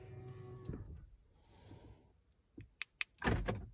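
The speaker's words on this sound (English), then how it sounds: "lock the car" Ford S-Max being locked with its key: a soft mechanical clunk, then a couple of sharp electronic chirps and a final thud of the locks, close and fairly quiet in a still setting.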